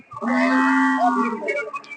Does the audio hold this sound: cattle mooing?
yes